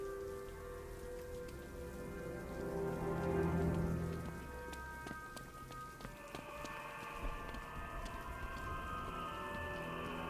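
Video game rain from Batman: Arkham Knight patters steadily on hard surfaces, a constant close drizzle with scattered drips over a low tonal background hum.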